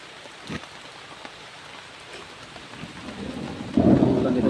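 Heavy rain falls steadily outdoors, with a low rumble of thunder building and swelling louder toward the end.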